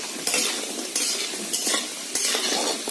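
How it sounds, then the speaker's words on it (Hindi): Pieces of elephant foot yam (suran) fry in oil in a pan with a loud, steady sizzle, broken by four sharp stirring scrapes of a utensil against the pan. "अब इधर हमारा ओल भुना रहा है।"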